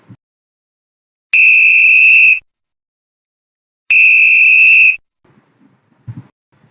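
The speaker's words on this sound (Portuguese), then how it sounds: "apito para o primeiro tempo" Two long, loud referee whistle blasts signalling the start of a football match's first half, each lasting about a second with a clear shrill tone, separated by a short pause, followed by faint scattered noises.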